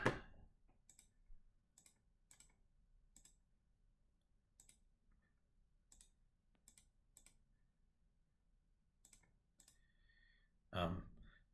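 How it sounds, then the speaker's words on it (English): Calculator buttons pressed during a math lesson, giving sparse, light, crisp clicks at an irregular pace against a quiet background, with a louder burst of handling noise near the end. "if you're clever, you can actually type the entire thing into your calculator"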